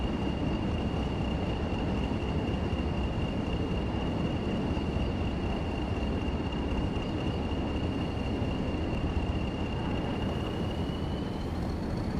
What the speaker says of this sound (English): Got another class 20 or pair of class 20s there with a loaded train